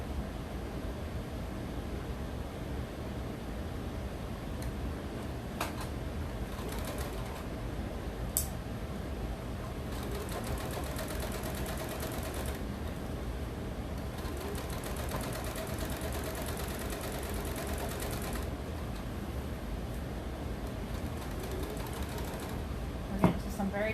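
Sewing machine stitching through chunky quilting fabric, a soft steady mechanical whirr with a few brief clicks and ticks, fairly quiet and close, without talk.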